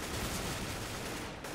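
Rapid gunfire shot up into the sky in the video game CS:GO, a short dense burst of shots filling the whole moment, loud and continuous with no voices.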